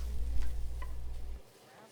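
Soft sizzling of vegan gumbo with black pepper in a pan, with light scraping stirs, fairly quiet, fading out near the end.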